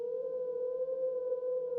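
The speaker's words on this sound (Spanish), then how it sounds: "Una ambulancia llega y se detiene enfrente" An ambulance siren wails steadily and loudly, holding one sustained tone with no pauses or voices, as the ambulance arrives and stops in front of a house where neighbors have gathered outside.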